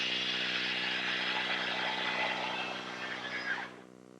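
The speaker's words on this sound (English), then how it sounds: "I'm cutting out the triangular shapes from the blank. And I found that the best choice to do that is with the circular saw" A circular saw whines loudly and steadily as it cuts triangular shapes out of a wood blank, the high-pitched cutting tone holding for several seconds before the blade clears and the motor spins down.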